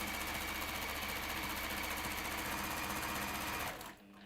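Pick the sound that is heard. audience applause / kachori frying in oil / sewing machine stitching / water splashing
sewing machine stitching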